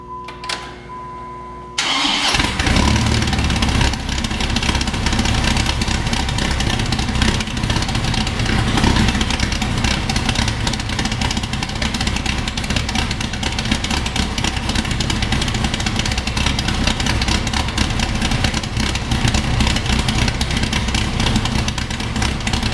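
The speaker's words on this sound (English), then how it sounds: "Let it go into closed loop once we fire it up so you can hear the true chop of the can." A 2006 Dodge Viper V10 with a lumpy cam, built by A&C, fires up after a brief quiet moment, then settles into a loud, steady, choppy idle that runs unbroken close by.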